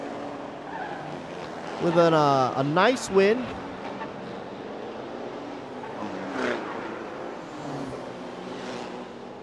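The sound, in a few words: Toyota Revo pickup trucks racing on a street circuit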